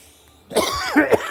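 One person coughs a few times in quick succession outdoors on a cold day, a harsh, close, throaty burst after a quiet moment.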